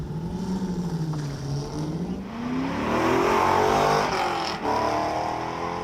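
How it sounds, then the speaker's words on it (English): A Corvette race car at the Knox Mountain hill climb accelerates hard, its engine note climbing and rising in pitch through the gears, loud and close with no talk over it. "So yeah, very fast Corvette."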